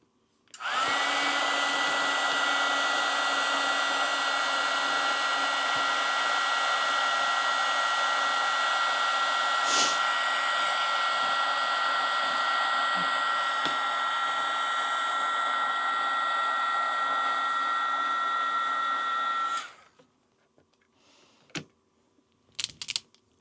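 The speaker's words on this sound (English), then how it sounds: "I'm also going to hit this with a heat gun." A steady, loud blowing whoosh with a high whine runs continuously for nearly twenty seconds, then cuts off, followed by a few faint clicks.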